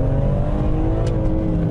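BMW M3 E46 with its S54 inline-six engine revs hard under full throttle, a loud, steady, close-up mechanical growl with no talk.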